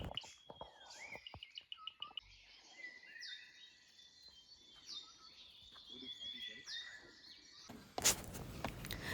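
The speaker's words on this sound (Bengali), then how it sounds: "কি অসাধারণ লাগে না এই পাখির ডাক।" Morning birdsong on a trek near Rishap: several birds whistle and chirp in thin, bright calls over a quiet background, with a few soft knocks early on and a brief louder rustle near the end.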